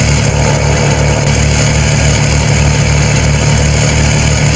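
Simulated Iveco truck with a 570 hp engine idling in a driving game: a loud, steady low rumble with a constant mechanical drone and no pauses or talk.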